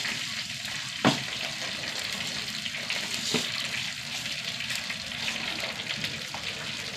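Mustard seeds splutter in hot coconut oil in a pan, a steady crackling sizzle with a couple of sharper pops standing out, close and fairly loud, with no talking.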